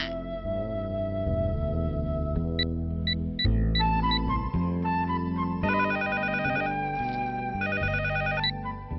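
A telephone rings with an electronic melodic ringtone, repeating phrases of tones continuously and fairly clearly, no talking.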